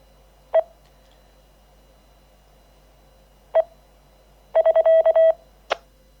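DTMF keypad tones sent over a radio link to an SvxLink amateur repeater: a single beep, another after a pause, then a rapid burst of five tones and a short final blip, each crisp and clear over a quiet hiss.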